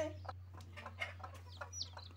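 A broody desi hen sits on eggs in a small poultry farm, giving faint, soft clucks and murmurs close by over a steady low hum.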